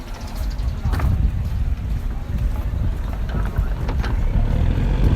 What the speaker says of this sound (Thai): ตอนนี้มี เรือที่กำลังจะเทียบพอดีเลยครับ